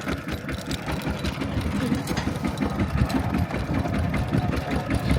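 A farm tractor driven toward rice fields, its engine chugging in a steady rapid mechanical rhythm, loud and close throughout, with a voice speaking faintly underneath.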